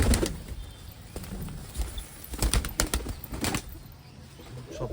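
Pigeons being fed flap their wings in several loud bursts, with soft cooing and light rustling in between, close by.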